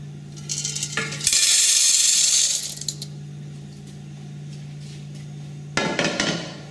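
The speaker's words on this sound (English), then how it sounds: "So I'm going to take this and put it into a colander now." Freshly roasted coffee beans pour into a colander in a loud, close, rattling rush lasting about a second and a half. A steady hum runs underneath, and a brief second rattle comes near the end.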